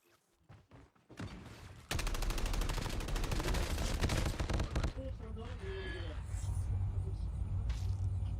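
Rapid bursts of video game gunfire crackle nonstop, loud and dense, with mechanical rumble underneath and a few brief tonal game effects near the end.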